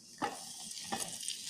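Garlic sizzling in a pan, a soft steady fry with two brief stirring scrapes, close and fairly quiet.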